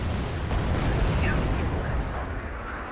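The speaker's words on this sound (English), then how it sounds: "Thankfully, it's just more napalm." A napalm strike in the Wargame Red Dragon video game gives a dense, roaring burst of fiery rumble that holds loud and steady throughout, with a faint crackle on top.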